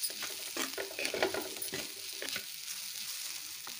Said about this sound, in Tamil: நல்லா வந்து மிக்ஸ் பண்ணிக்கலாம்.